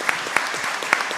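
Audience applause in a formal hall, a brief burst of steady clapping from a crowd at close-to-mid distance, with no voices over it.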